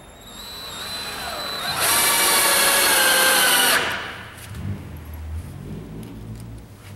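A power drill whirs loud and close for about two seconds as it drives a screw into a wall support on a storefront build, then stops, leaving quieter shop noise behind.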